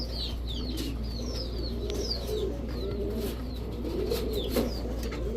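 Chuithal dudh khaki pigeons, a male and female pair, coo in repeated soft low throbbing calls over a constant low hum, while chirps from other birds flicker in the background.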